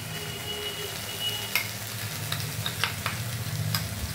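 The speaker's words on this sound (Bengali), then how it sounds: "এখন ভালোভাবে এটা কষে নেওয়া হচ্ছে, নুন, হলুদ, রেড চিলি সব একসাথে মশলাটার মধ্যে দিয়ে" Masala with salt, turmeric and red chili fries in oil in a pan for a prawn dish, giving a steady, fairly soft sizzle with occasional sharp clicks of stirring.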